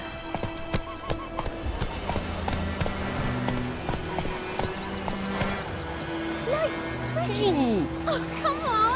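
A horse galloping in The Witcher 3 video game, with rapid hoof clip-clops and several whinnies and neighs, while someone talks over it.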